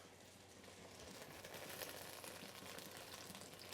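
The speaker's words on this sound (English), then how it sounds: "You can hear that beautiful sizzle coming off from the wok already down in there." Pepper strips sizzling steadily in a hot wok, a continuous crackling hiss with no talking.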